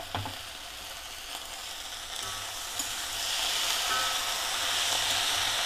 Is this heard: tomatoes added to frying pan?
yes